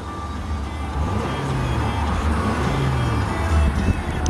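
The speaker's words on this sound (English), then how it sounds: "Four-cylinder motor sounds excellent." A 2003 Nissan Altima 2.5 S with a four-cylinder engine and about 150,000 miles idles at a steady, low hum, near and continuous with no revving.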